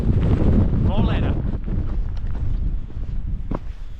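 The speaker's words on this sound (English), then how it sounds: "Windy, drizzling, the mist is down." Strong wind buffets the microphone on Syne Fell near Ingleborough in drizzle and mist, a heavy low roar with gusty surges that stays loud throughout.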